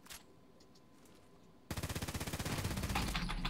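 Rapid automatic fire from an X95-R rifle in the video game Contract Wars, a long dense burst of evenly spaced shots starting abruptly after a quiet second and a half, loud and close.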